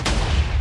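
A TNT cannon fires in Minecraft, a single loud booming blast that opens sharply and then leaves a rumbling tail, with no talking.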